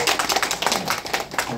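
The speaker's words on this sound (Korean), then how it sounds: "박수 한번 주실까요?" An audience at a Korean regional development foundation event claps in a brisk, dense patter of many hands, close and lively for a brief moment.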